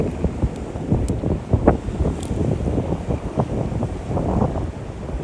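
Wind blows hard across the microphone on the East London coast during a shark-fishing outing, a loud, steady rumbling buffet with possible surf beneath it and no talking.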